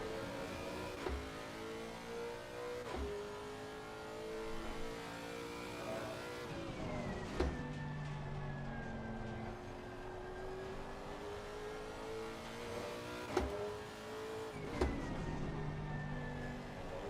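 A GT race car at the Red Bull Ring in Assetto Corsa Competizione revs and climbs through its gears, rising engine whines broken by several sharp upshift drops, loud and close, with no talk.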